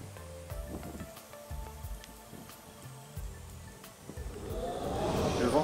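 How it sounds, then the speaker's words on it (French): Cold wind picks up gradually outdoors near Chapelle St Pierre and Fort d'Auribeau, a broad rushing noise swelling louder toward the end, with faint rustling and low bumps earlier on. "Le vent se lève."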